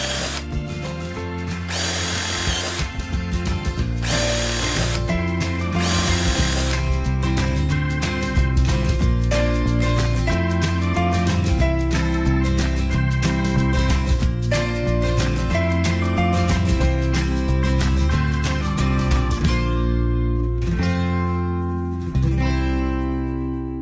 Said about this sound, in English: I'm going to put some drainage holes in the bottom just to keep them dry, and I've got a 6mm drill bit